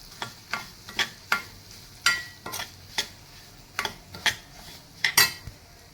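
Semolina roasting in ghee with cloves over a low flame for kesari bath, with a spoon scraping and clinking against the pan in irregular strokes and a faint sizzle underneath.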